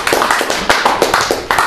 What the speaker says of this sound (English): We're doing the standard clap then questions?